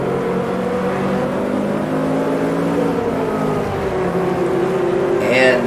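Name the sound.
Lotus 49C vintage race car engine, Automobilista 2 video game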